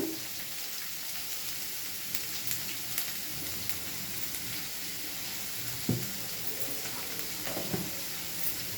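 Onions fry with salt and turmeric in a pan for an eggplant curry, giving a steady, close, hissing sizzle throughout. A few soft clinks of stirring break through the sizzle.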